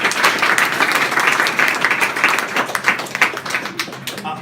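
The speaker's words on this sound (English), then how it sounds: "Let's give them a round of applause" A round of applause from an audience at an NDP leadership candidates' event in Halifax, with many hands clapping in a steady wash that thins toward the end into a few distinct claps.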